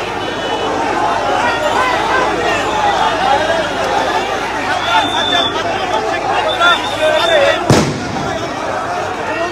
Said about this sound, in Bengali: আমরা ইতিমধ্যে দেখছি যে সাউন্ড গ্রেনেড মেরেছে আইন শৃঙ্খলা বাহিনীর পক্ষ থেকে